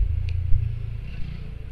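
A TVS Apache 200 4V motorcycle with a jerky chain idles and rumbles close by as the throttle is opened, a low steady engine drone with a brief bump, no talk.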